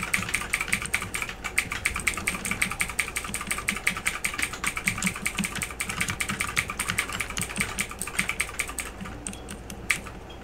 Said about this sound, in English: I hear your key clicking.